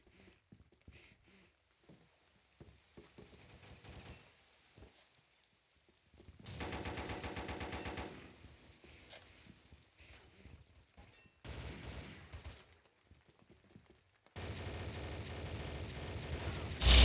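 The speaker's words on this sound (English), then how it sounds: "Stop missing shots, Rem." Video game gunfire heard as quiet scattered shots, then bursts of sustained automatic fire in several loud stretches separated by lulls, with no talk over it.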